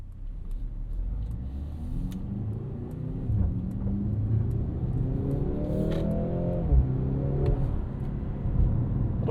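A 2025 Mercedes-AMG GLC 63 S E Performance with 671 hp pulls away in sport mode. Its engine note climbs in rising sweeps over a low, constant rumble, loud and unbroken.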